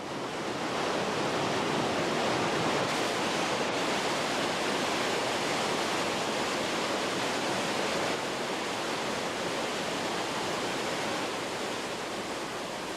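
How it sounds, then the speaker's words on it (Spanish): Krimml waterfalls in the Austrian Alps, among Europe's most powerful, thundering in a steady, dense roar that fills the whole span without pause, loud and close, with no voices. "el río da lugar a cataratas consideradas como las más poderosas de Europa y las más espectaculares de los Alpes"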